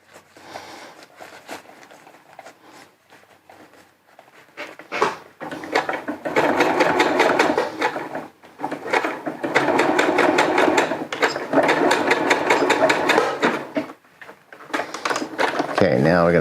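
A sewing machine stitches rain overmitt fabric in rapid mechanical bursts, running loud for several seconds at a time between pauses, with a person talking over parts of it.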